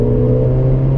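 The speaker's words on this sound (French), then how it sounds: "je vais accélérer et je vais fermer les pots en accélérant" A Mercedes A45 AMG held at a steady, loud engine drone with its exhaust valves closed, a deep muffled hum with strong low tones and no voices.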